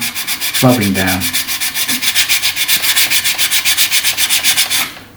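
Steady back-and-forth sanding of a 3D-printed Dalek model part, a quick, even rhythm of about five or six strokes per second that carries close and loud from start to finish, with a brief hollow knock early on.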